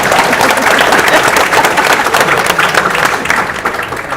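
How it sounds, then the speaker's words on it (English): Sustained applause from a convention audience, dense clapping filling the hall at steady loudness throughout, with no voices standing out. "You can clap hands for yourself."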